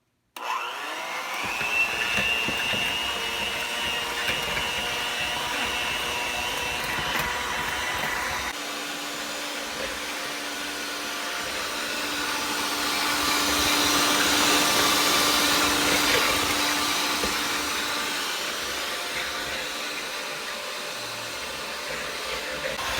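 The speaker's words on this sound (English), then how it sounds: "now we're going to mix it for 2 to 3 minutes on medium speed" Electric hand mixer whirring steadily at medium speed while whipping a mixture until foamy, a continuous motor drone with a slight swell in pitch and loudness midway, no talking.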